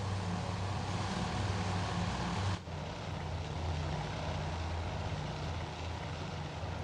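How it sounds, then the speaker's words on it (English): Propeller-driven torpedo bombers in the naval strategy game Task Force Admiral, a steady droning engine roar that holds at an even level, briefly dipping partway through before continuing, with no voices. "There's our torpedo bombers."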